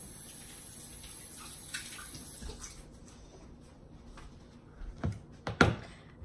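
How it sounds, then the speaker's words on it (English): Water runs from a kitchen tap as hands are rinsed during banana muffin baking, a steady low splash with a few louder bursts toward the end. "Rinse my hands really quick."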